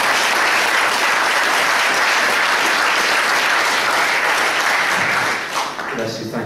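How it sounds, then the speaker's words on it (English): A large conference audience at a partnership conference bursts into dense, loud applause for a speaker, a continuous wash of clapping that holds steady for several seconds before thinning out near the end. "It's a round of applause,"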